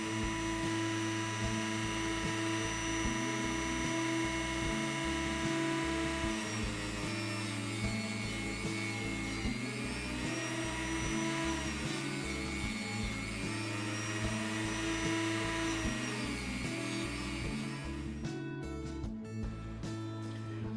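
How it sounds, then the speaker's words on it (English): A Dremel rotary tool with a light abrasive wheel removes paint from the axles of an Austin van model, giving a steady high-pitched whine over a low motor hum that holds for about twenty seconds before cutting out near the end. "I can remove the paint with the Dremel and the light abrasive wheel."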